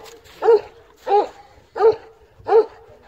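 An 11-month-old Kangal shepherd dog barks four times, deep and close, at an even pace of roughly one bark every two-thirds of a second, with quiet between barks and no talking.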